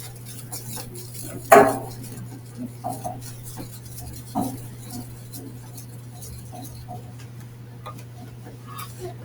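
Stirring powder into a mixture with a stick: sparse light ticks and scrapes against a container, one sharper knock early on, faint and close over a steady low hum, without talking.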